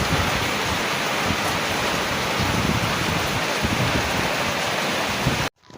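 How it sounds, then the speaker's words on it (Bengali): Dense, steady roar of heavy rain pouring down without a break, loud and close, cutting off abruptly near the end. "বৃষ্টি সবে শুরু হলো হ্যাঁ কত জোরে পড়ছে"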